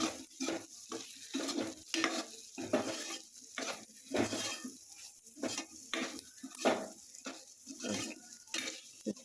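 A spoon stirs turmeric and chilli powder into beetroot frying in a pan, making a quiet run of rhythmic scraping strokes against the metal, about a dozen sweeps over a soft background sizzle.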